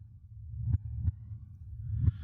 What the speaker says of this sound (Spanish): el corazón siguió latiendo con un sonido ahogado